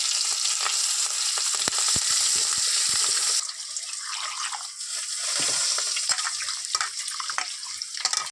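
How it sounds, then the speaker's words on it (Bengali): Whole cumin, green chili and chopped onion frying in hot oil, a loud steady sizzle with occasional stirring clicks, settling into a slightly softer crackle halfway through. "তেলটা আমি দিয়ে দিয়েছি, গোটা জিরেটা দিলাম, কাঁচা লঙ্কাটা দিয়ে দিলাম, পেঁয়াজ কুচানোটা দিয়ে দিলাম"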